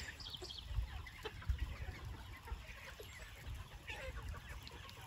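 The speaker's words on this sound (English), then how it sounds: "Happy chickens, enjoying the very best life they can" Pasture-raised chickens on a farm cluck in a busy, overlapping chorus at moderate distance, with soft low thumps and steady outdoor ambience throughout.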